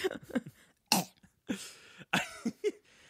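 Several separate coughs and throat-clearing bursts, close and loud, with short silent gaps between them and no talking.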